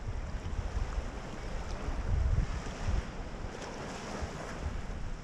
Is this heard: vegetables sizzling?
no